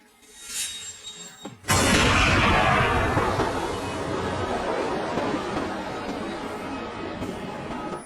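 A sharp, heavy boom like a cannon shot as a ball is kicked on a field, followed by a long roaring, echoing wash of noise that slowly fades.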